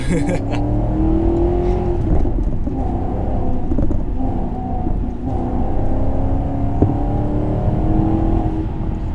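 Maserati GranTurismo MC engine roars loudly and steadily as the car launches with wheelspin, a continuous deep rumble rising in pitch, with speech faintly present underneath.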